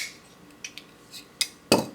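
Several sharp metallic clicks from a Microtech Socom Elite folding knife blade working against a stiffer detent, spaced unevenly with a louder snap near the end, close and isolated.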